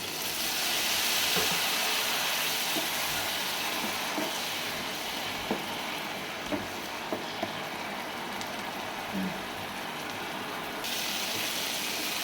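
Coriander, chilli and turmeric powders fry in a pan after a splash of water, giving a loud, rain-like sizzle throughout with occasional soft clicks and taps from the pan.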